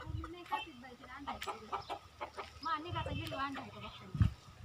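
Chickens clucking and calling close by, with a rooster-like cry and people talking over the birds throughout.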